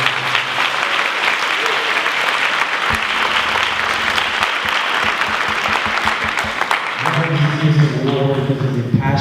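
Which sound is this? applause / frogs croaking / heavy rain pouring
applause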